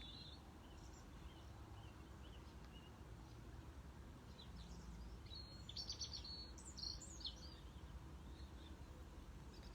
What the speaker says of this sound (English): And just hearing the sound of the birds here.